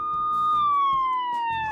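A cartoon police car's siren during a chase along city streets, a loud, sustained tone slowly sliding downward and up close, with faint thumping sounds underneath.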